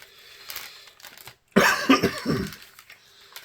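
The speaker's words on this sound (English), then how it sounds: "forgive me if I'm still coughing" A single harsh cough from someone recovering from a cold bursts out close by after a short silence, preceded by quieter rustling and movement.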